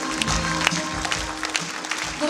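Audience applause at a charity concert, a continuous wash of clapping from a hall crowd with occasional sharper claps and a low background rumble throughout.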